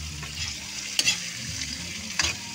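Shrimp frying in a pan with sautéed garlic and onion, a steady close sizzle with a couple of sharp clinks as the food is stirred.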